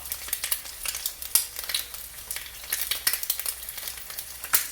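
An egg fries in a pan, spitting and popping in a dense, crackling sizzle with sharp bursts over a steady hiss, close and fairly soft.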